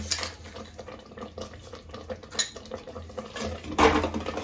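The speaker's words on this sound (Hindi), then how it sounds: "चीनी डालने के बाद इसे हम एक दो मिनट तक ऐसे ही चलाते रहेंगे" A spoon stirring kheer, rice pudding just sweetened with sugar, in a pot, giving repeated scraping and light clinks of metal against the pot with a louder knock near the end, no voices.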